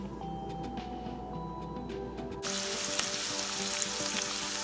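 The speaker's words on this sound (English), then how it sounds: "Place cooking oil in a frying pan. Follow up with chopped garlic and onion." A quiet kitchen hum gives way to a sudden loud sizzle as chopped garlic and onion hit hot oil in a frying pan, the frying crackling steadily up close.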